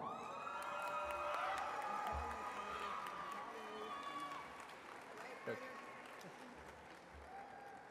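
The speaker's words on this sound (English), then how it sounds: "Ladies and gentlemen, one more round of applause" A graduation audience applauds steadily, a dense wash of clapping with scattered cheers and whoops carrying through a large hall, with a voice speaking over it.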